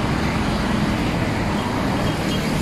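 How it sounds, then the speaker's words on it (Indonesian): A trailer truck passes on a road, a broad continuous roar of engine and tyres mixed with general traffic noise, loud and steady throughout with no talk. "Diikuti truk trailer."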